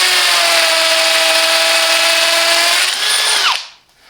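A Hychika 18V cordless brushless hammer drill runs loud and steady at high speed for about three seconds, then spins down and stops, with no voices.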